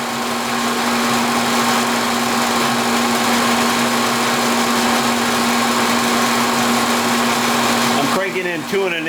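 A machine tool table feeds slowly across during a light metal cut, giving a loud continuous motor hum with a steady tonal drone that stops abruptly near the end, after which someone speaks.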